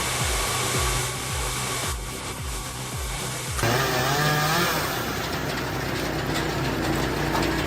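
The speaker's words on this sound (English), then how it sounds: "This homemade firewood processor doesn't need to look fancy to work. It feeds, cuts, and sends wood down the line effortlessly." A homemade firewood processor runs loud and continuous, first with rhythmic repeated mechanical thumps as logs feed and cut, then shifting into a steady high-pitched saw whine.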